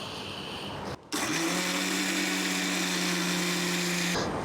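Electric mixer beating eggs and sugar for coconut custard pudding, a steady high whirring drone that briefly stops, then restarts and runs on evenly.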